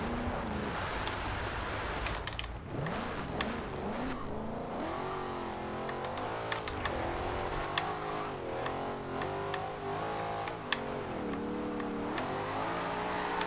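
A 2013 Ford Shelby GT500 V8 in Forza Horizon 2 drifting in the rain, its engine revving up and down in long wavering swells with tyre hiss and rain noise, loud and continuous with no talk.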